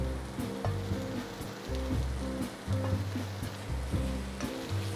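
Salt cod sautés quietly in a pan with a soft continuous sizzle, a low hum underneath and occasional light stirring clinks, fairly faint throughout.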